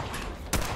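Gunfire in Fallout 4, a single sharp loud shot bursting out after a brief stretch of dense background noise.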